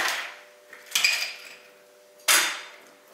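Ice cubes dropped into a cocktail glass for a Long Island iced tea, three separate crisp clattering impacts spaced about a second apart, close and clear with no talk.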